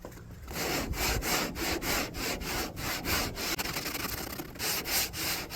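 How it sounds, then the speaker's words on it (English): Folded 3M 40 grit sandpaper is rubbed hard against wood in quick, rhythmic back-and-forth strokes, about a dozen rasping passes, close and alone with no talking. "I'm going to sand it with 3M 40 grit square"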